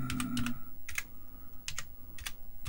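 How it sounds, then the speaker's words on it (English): Keys clatter on an Apple II Rev 0 computer keyboard, typed in short irregular bursts of sharp clicks with brief pauses between them, close and moderately loud with no voices. "Let's see if I can type single-handed here."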